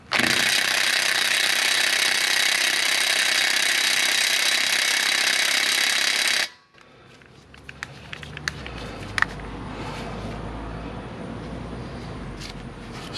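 Loud, rapid hammering from a Mastercraft drill-to-1/2-inch impact adapter runs for several seconds, then stops abruptly, leaving quieter clanks and handling noises.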